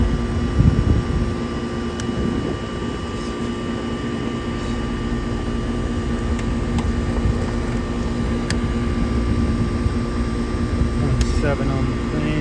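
A Goodman air conditioner's compressor runs on a unit that is not cooling, giving a loud, steady broadband drone with a low hum that holds unbroken throughout.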